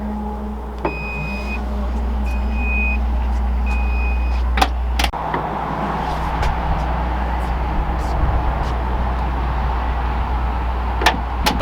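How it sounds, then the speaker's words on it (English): A 2021 Ford F-150 Platinum power tailgate: a few short electronic beeps, then a steady low motor whir as it raises, with a couple of faint clicks and thumps near the end. "press the button again, and then the tailgate will raise"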